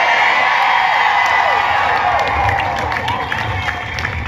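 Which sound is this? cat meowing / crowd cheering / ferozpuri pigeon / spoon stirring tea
crowd cheering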